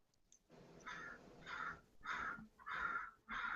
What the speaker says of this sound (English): There's like crows fighting outside my house.